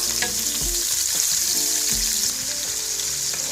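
Onions fry in a pan with a steady, loud sizzle throughout, while a utensil stirs them, making soft scraping pulls against the pan at irregular intervals, close by and with no voices.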